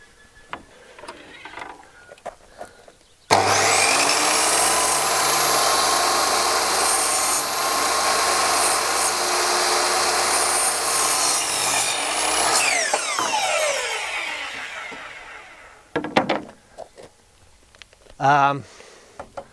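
An Azito miter saw spins up and cuts through wooden decking in one long, loud, close pass of about nine seconds, then winds down, with quieter handling noises and some talking before and after.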